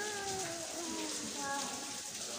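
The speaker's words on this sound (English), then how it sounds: "And it is really raining today. It's raining so much." Heavy rain pours steadily at a spacious roast meat place in Mombasa, a broad continuous hiss with people talking faintly underneath throughout.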